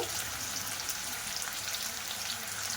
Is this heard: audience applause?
no